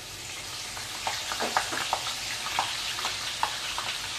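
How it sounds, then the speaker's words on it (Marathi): Green chillies fry in hot oil for a poha chivda, giving a soft continuous hiss broken by sharp, scattered pops and crackles. "इथं मिरची तळून घेणार आहे."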